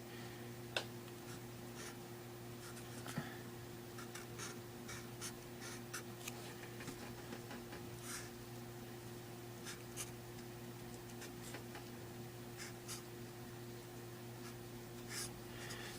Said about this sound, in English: I'm going to write this formula again up here.